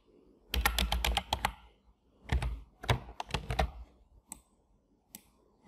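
Fingers typing a new password on a computer keyboard, close-up clicky keystrokes coming in quick bursts separated by short pauses, ending with a few isolated taps.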